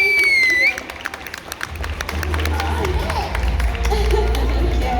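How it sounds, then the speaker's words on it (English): An event crowd breaks into applause and cheering as a whistle-like tone cuts off, then claps densely and steadily over a low rumble with voices mixed in. "Let's give them a big round of applause."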